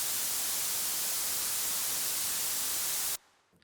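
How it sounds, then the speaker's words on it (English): Loud, steady white noise in Cubase 12 hisses evenly for about three seconds, then cuts off abruptly, leaving near silence. "So I've just got some white noise here."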